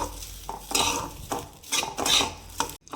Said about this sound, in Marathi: आधी हे थोडंसं असं ड्राय रोस्ट करून घेते.